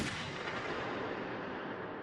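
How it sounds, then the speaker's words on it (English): A stock gunshot effect from the video game Still Life booms out as one loud, sustained blast with a long, fading rumble of reverberation. "Stock gunshot sound effect."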